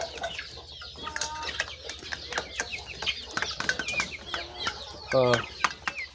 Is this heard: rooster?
yes